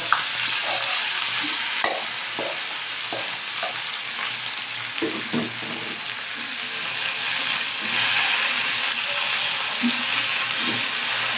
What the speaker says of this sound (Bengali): এই যে হচ্ছে পেঁয়াজ মরিচ শুকনো মরিচ দিয়ে দিয়েছি